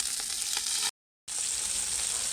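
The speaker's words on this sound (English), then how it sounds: "So now I'm going to bung the shallots in and leave it for a bit." Shallots frying in a Dutch pot after brisket has been seared, giving a loud, continuous sizzle that cuts out briefly and then returns just as strong.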